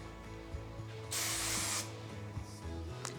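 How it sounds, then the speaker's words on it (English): Hair spray from an aerosol can hisses in one steady burst of about a second onto short-to-medium hair during wave styling, close and loud, with faint handling clicks around it. "Use your hands and just kind of hold it out as you spray"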